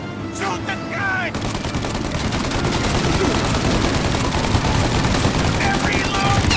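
Loud, continuous machine-gun fire aimed at a turret in Mafia: Definitive Edition, a dense, unbroken rattle of rapid shots with voices shouting over it.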